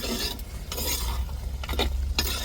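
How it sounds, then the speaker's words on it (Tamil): Mutton curry cooks in a pot, heard as close, irregular scraping and stirring strokes over a low bubbling background, without any talk. "மூடி துறப்பங்க பாருங்க நல்லா மட்டன் கறி நல்லா வெந்து வருது"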